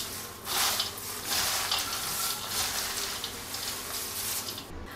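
Corn chivda being tossed and mixed in a pan, a steady dry rustling and scraping that swells in several waves, close and continuous.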